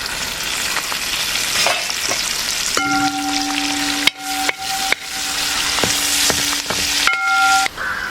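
Chopped green chilies and curry leaves hit hot oil for a fish pickle, giving a loud, close, crackling sizzle with sharp spits, brief lulls and a faint tone ringing under the frying.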